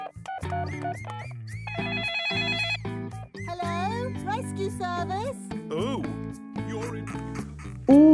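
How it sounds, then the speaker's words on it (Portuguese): A cartoon telephone rings in short bell-like bursts within a Peppa Pig alphabet episode in Portuguese, mixed with childlike voices and musical tones. "T de telefone"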